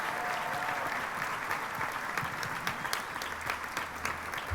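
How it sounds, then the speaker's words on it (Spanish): An audience gives sustained, dense applause after a panel discussion on La Casa de los Espíritus at the FICG film festival. The clapping stays full and steady for several seconds, with no talk over it. "Vamos a darles un fuerte aplauso"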